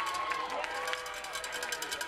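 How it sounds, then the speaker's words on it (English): A football crowd at a Bentworth versus Avella high school game cheers a penalty call, a steady distant roar of voices with scattered shouts throughout. "the Avella crowd is very excited about that call"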